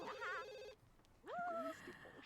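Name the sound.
telephone ringing in a video game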